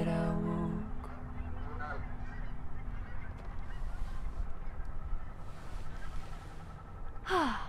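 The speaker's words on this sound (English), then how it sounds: "when we finished the song, he was like, gah!" A goose gives a loud, close honk near the end, after a stretch of quiet outdoor ambience that opens with a fading musical tone.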